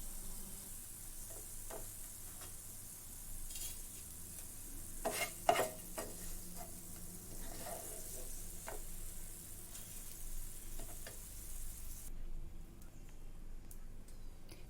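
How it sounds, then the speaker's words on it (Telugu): Low-flame frying in oil for tur dal pachadi, a soft, steady sizzle with scattered stirring taps and clinks near the middle, quiet throughout with no voices. "ఫ్లేమ్ని సిమ్లో పెట్టుకొని ఒక 2-3 నిమిషాలు వీటిని బాగా ఫ్రై చేసుకోండి ఆయిల్లో"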